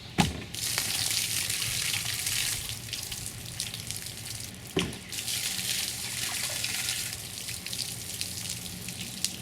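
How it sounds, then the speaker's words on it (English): Water drains steadily from the flooded footwells of a Wilderness Systems kayak cockpit through opened scupper holes, a continuous hissy trickle running alone with a couple of brief knocks. "I'm going to have to pop my scupper plugs to let that water drain out"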